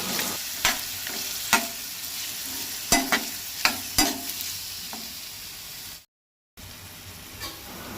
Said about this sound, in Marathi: आतां तितून आंब्याच्यो फोडी घालता